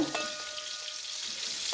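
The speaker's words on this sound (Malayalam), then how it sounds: "ഇനി ഇതിലേക്ക് നമുക്ക് അരച്ച് വെച്ചിരിക്കുന്ന അരപ്പ് ചേർത്ത് പതുക്കെ തിളച്ചാൽ" A drumstick-leaf erissery bubbling in a pot after ground coconut paste is stirred in, an even, close sizzling hiss marked by a few soft stirring clicks, with no talk.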